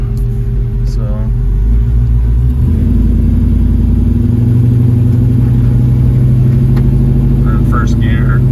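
1967 Ford Mustang Fastback engine rumbling loudly up close, revving and pulling through successive gears with a deep throbbing drone, someone talking over it.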